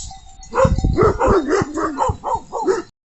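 Farm dogs in Portugal bark and yip in a quick, excited series of loud close barks with whimpering tones, no talking over them.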